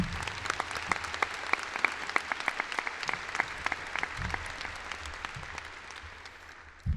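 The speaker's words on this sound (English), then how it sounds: "I'd just like to give him a round of applause before we start for all of his hard work." Steady applause from a graduation ceremony crowd, many hands clapping in a dense, even patter that holds for several seconds before gradually thinning and fading.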